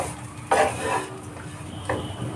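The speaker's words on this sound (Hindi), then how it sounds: "ऐसे हल्का हल्का कर दें ताकि शिमला के ऊपर बेसन की कोटिंग हो जाए, अच्छे से सब मिक्स हो जाए" Capsicum being stirred through a gram flour coating in a pan, giving a scraping stir with a louder burst of spoon against metal near the start and another brief clatter toward the end over faint background.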